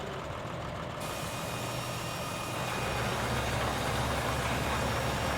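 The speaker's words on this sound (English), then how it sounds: "I'm still getting used to how fast the tractors just take off in this game" Tractor engine in Farming Simulator 15, a steady low droning rumble running continuously and loudly throughout, building slightly in intensity partway through, with no talk over it.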